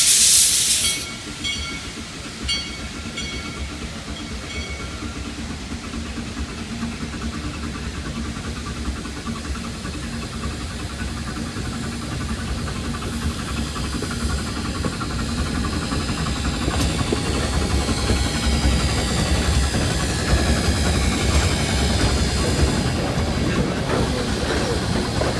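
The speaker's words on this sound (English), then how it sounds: "we see that the Shay is also departing" A Shay steam locomotive pulls away at a steam and power show, a steady hiss and broadband rumble of steam and rolling wheels building gradually in loudness over about twenty-five seconds with no talk.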